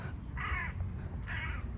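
Crows caw twice outdoors on a hot summer day by the Dnieper river, two short hoarse calls about a second apart, moderately distant over a steady low background hum.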